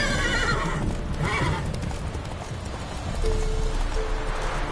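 In The Witcher 3, a horse gives a loud whinny over quick galloping hoofbeats, and the hooves keep clip-clopping steadily through the short stretch.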